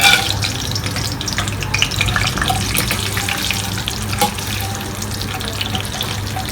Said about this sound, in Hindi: फिर उसी घी में हम अपनी सेवइयों को खूब अच्छी तरह से फ्राई करेंगे।